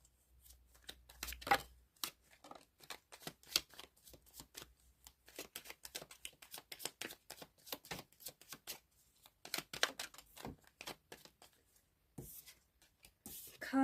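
Tarot cards being shuffled, a long, dense run of quick riffling snaps and flicks close up, at times rapid and fluttering, with brief pauses between bursts and no talking.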